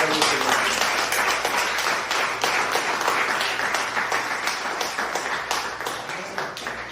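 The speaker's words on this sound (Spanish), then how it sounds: "Un aplauso a Dios." A church congregation breaks into loud applause during a sermon, dense clapping from many hands that stays strong for several seconds before thinning out slightly.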